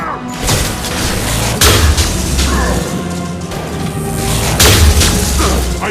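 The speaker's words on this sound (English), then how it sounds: "Firing a high-impact shot!" A high-impact weapon fires in Mass Effect 2 with two heavy booming blasts amid a loud, dense battle soundscape, while voices shout orders over the combat.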